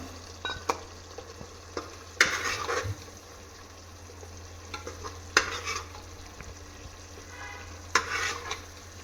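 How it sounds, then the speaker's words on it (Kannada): Fried masala gravy for an egg dum biryani is scooped from a pan in three separate bursts of wet scraping and stirring, set against a low, steady hum. "ಇವಾಗ ಸ್ವಲ್ಪ ಮಸಾಲೆನ ಎತ್ಕೊತೀನಿ ನಾನು"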